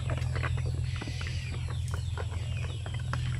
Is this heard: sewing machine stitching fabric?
no